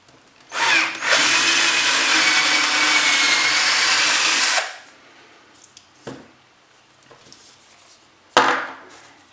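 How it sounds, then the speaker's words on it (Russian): Power drill boring holes into wooden desk legs, one loud sustained whine of about four seconds followed by quiet handling clicks and a brief final burst near the end, no voices. "Просверливаем отверстие с двух сторон."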